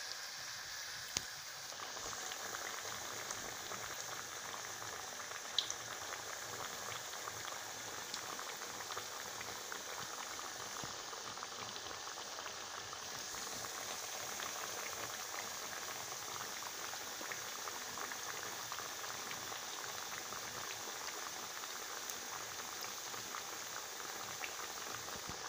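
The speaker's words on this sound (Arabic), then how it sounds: "تحطوه في الزيت ينقلى، كي احمر من تحت تقلبوه وتحطوه في طبسي" Mhajeb (mahraf) dough frying in hot oil in a pan on a gas stove: a steady, dense sizzle with fine crackling that stays even and close throughout, with no talking.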